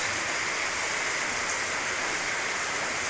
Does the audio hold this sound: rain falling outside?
yes